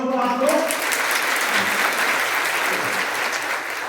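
Students at a girls' intermediate college in Shamli clap in a dense, continuous burst of applause, loud and close, after a brief voice at the start.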